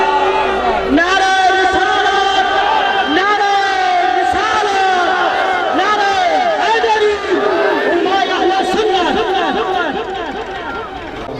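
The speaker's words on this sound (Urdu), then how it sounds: "نعرے کی گونج میں آپ کا استقبال کیجئے نعرہ تکبیر" A large crowd chants a religious slogan in reply to a takbir call, many voices shouting together loudly and continuously in overlapping, rising and falling cries that fade slightly at the end.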